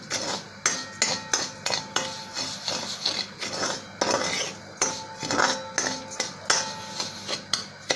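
Pre-roasted rice for kheer is sautéed in a pan. A metal spoon scrapes and clanks against it in repeated close, sharp knocks and stirring scrapes at an uneven rhythm. No one speaks.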